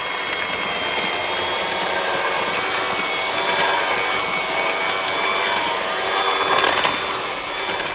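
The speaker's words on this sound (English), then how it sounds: "now we're just going to go in with the electric whisk" Electric hand whisk beating cake batter in a bowl, a steady high-pitched motor whir with faint rattling, running continuously and close with no talk.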